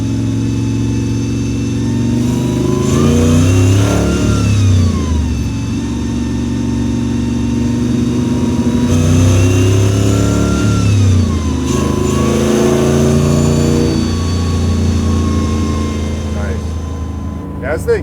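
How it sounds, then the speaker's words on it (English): A supercharged 1973 Chevy Blazer race truck engine revs hard and close in two long surges, settling back in between, with a thin blower whine riding above the rumble and voices talking underneath. "You actually do hear a little bit of the blower whine"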